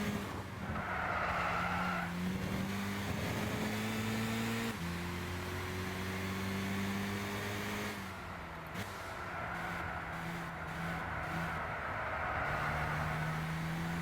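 A KTM X-Bow race car in Gran Turismo 6 revs hard and shifts gears, its engine note climbing and dropping in steady steps, with tire squeal near the end, loud and close with no talking.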